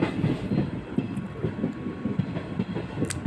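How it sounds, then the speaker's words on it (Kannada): A train rolling into Tiptur railway station makes a steady, rhythmic clatter of wheels over rail joints, moderately close and continuous, with no voices. "ಟ್ರೈನು ತಿಪ್ಟೂರ್ಗೆ ಎಂಟ್ರಿ ಆಗ್ತಿದೆ. ತಿಪ್ಟೂರು ರೈಲ್ವೆ ನಿಲ್ದಾಣಕ್ಕೆ."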